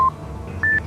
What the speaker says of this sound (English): Moving the cursor over each number presents us with a different beep sound like this.